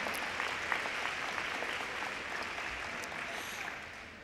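Steady audience applause fills a scholarship reception hall at a community college, a dense, even patter of many hands clapping at moderate volume throughout, with no voices standing out.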